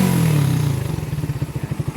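A motorcycle engine fitted with a plug-and-play 28mm Keihin carburetor runs nearby, a smooth rev settling down into a distinct, rhythmic idle with evenly spaced thumping pulses, no talking over it.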